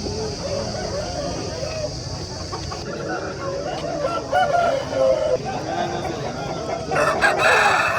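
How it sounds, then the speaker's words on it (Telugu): An Aseel rooster crows repeatedly at a busy Saturday fowl market in Mydukuru, with loud, drawn-out calls, clucking and market chatter around it and a honk near the end. "పుంజం చూస్తుంటే మంచి పుంజు అండి, మంచి హుషారైన పుంజు."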